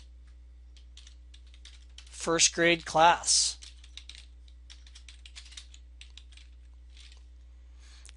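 Light, rapid clicks of typing on a computer keyboard patter faintly and intermittently throughout, with a brief burst of a person speaking in the middle.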